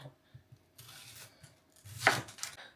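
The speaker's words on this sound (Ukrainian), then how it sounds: "Цибулю наріжу кільцями приблизно 4-5 мм товщиною." A knife slices an onion into rings about 4–5 mm thick on a cutting board, a handful of soft, close cuts in an irregular rhythm ending in one sharper chop, fairly quiet with no talk.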